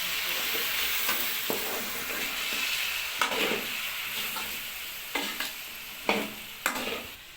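Capsicum and radish stir-fry in a pan with a little water and spices, a soft, low sizzle with occasional scraping stirs and clinks near the end, fairly quiet and close, no speech.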